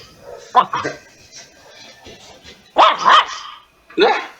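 A small dog barks several times in short bursts, fairly close and loud, with a person talking faintly in the background between the barks.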